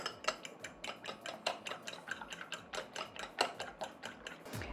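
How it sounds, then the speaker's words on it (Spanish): Eggs are beaten in a bowl with a utensil, producing quick, rhythmic clinking taps against the bowl at a steady pace, close and fairly quiet, with no talk. "Ahora voy a batir los huevos"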